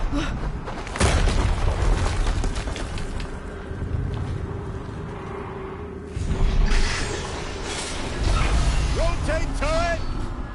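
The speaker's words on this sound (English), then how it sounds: "Another explosion." A boom from an explosion in Horizon Zero Dawn Remastered lands around the one-second mark amid dense game noise, with a second heavy burst near six seconds and a voice talking over much of it.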